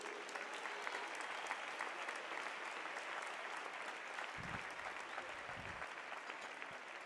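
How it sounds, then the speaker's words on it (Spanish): Steady, faint applause from a large crowd at a Eucharistic celebration presided over by Cardinal Juan José Omella, a dense even wash of clapping sustained throughout, with a couple of low thumps near the end. "un aplauso también para todos ellos"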